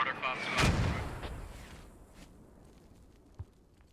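Mortar fire in a video game: one loud, close boom with a long rumbling decay, then near-quiet and a faint, short thump near the end.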